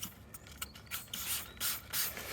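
Spray triggers on Turtle Wax wheel cleaner bottles being primed, giving several quick hissing bursts of varying length, close and fairly loud, with faint clicks of the trigger mechanism between them.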